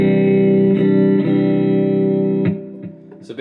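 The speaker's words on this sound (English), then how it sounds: "So you got clean here, which is based on a Fender Twin." An electric guitar plays through a Positive Grid Spark 40 amp on its clean Fender Twin model, with sustained loud chords ringing with delay and reverb, then a few quieter, clipped notes near the end.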